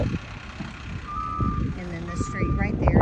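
Trash truck backing up on a residential street, its reversing alarm giving a few evenly spaced beeps over a low engine rumble, moderately near, with faint voices in the background.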